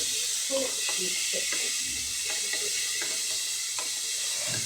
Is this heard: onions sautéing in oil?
yes